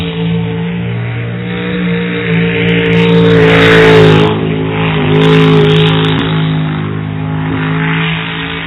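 A rookie's race car at a qualifying run roars loud and sustained, the engine note rising and falling as it drives through corners, with no voices over it.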